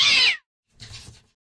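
A cat meows twice up close, a loud bright first call followed after a short pause by a softer, lower one.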